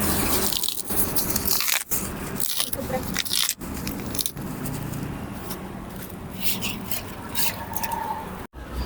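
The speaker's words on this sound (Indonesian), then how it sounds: "Masih tambah air kira-kira 5 liter" Water is poured and splashed into a liquid organic fertilizer mixture for rice plants, giving a continuous wet sloshing and trickling with a few brief pauses and scraping sounds, heard close.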